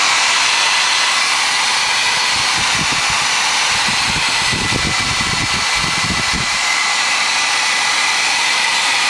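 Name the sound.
Frigidaire 6000 BTU window air conditioner running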